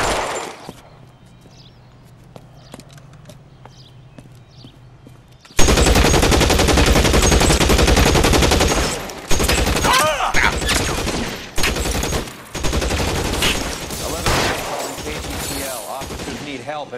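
Gunfire in the video game L.A. Noire: after a quiet stretch, loud sustained bursts of automatic and rapid shots break out and continue with short pauses, dense and close.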